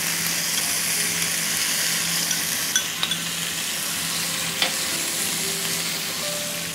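Pasta and vegetables in tomato sauce sizzle loudly on a hot sizzler plate with a constant crackling hiss and a few small utensil clinks, with no voices.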